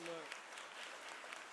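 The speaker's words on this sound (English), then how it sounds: "Let's give them a round of applause." Audience at a school board meeting claps in a dense, even wash of applause, fairly faint, with a brief voice at the start.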